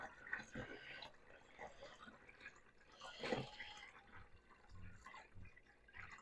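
Water poured into a jug to dilute fish emulsion for feeding transplanted garden plants, a soft gurgling fill with splashes and a louder surge midway, fairly quiet.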